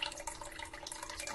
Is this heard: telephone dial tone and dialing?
no